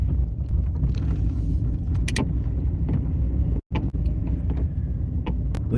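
Car driving, a steady low road and engine rumble with wind buffeting throughout, heard from inside, plus a brief dropout and a few faint clicks, no talking.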